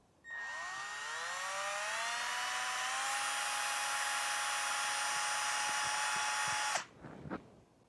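A power drill with a 7/64 bit spins up and bores into a GM 3.6 PCV valve clamped in a vise, a loud, steady high whine lasting several seconds before winding down with a few clicks.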